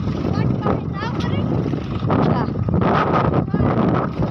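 A boat motor churns across the sea near Koteshwar Mahadev temple with wind buffeting the microphone, while people talk over the engine noise.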